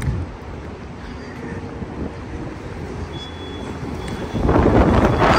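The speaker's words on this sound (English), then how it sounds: "that wind, I wasn't ready for that." Strong wind buffets the microphone outdoors in Chicago with a rough, continuous rumble that swells sharply louder near the end.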